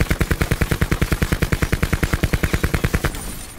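A KN-57 assault rifle firing on full auto in Black Ops 4, a steady, evenly spaced rapid burst of loud close shots that stops abruptly near the end, leaving a brief fading tail.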